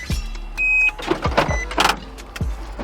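The retractable hardtop roof of an Infiniti G37 closes with a string of whirring motor bursts, clicks and mechanical clunks, close and fairly loud, with no talk.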